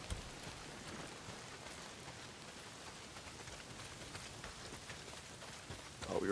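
Heavy rain pours down in a survival video game, a dense, steady hiss of drops on surfaces that stays even and fairly quiet, with a brief louder swell at the end.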